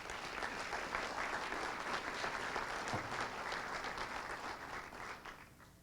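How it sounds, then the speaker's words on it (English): Steady applause from a room full of people at a hall of fame and years of service ceremony, a dense patter of clapping that carries on throughout and starts to fade at the end. "Let's give them a round of applause."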